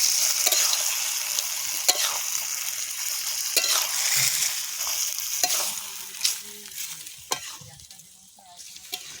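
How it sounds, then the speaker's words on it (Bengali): Chicken curry with potatoes sizzles and hisses in a pan, cooked outdoors in a forest, with repeated scrapes and knocks of a spatula stirring it; the frying fades toward the end. "আলু একদম দিয়ে নিয়েছি, ভালোভাবে কষাবো।"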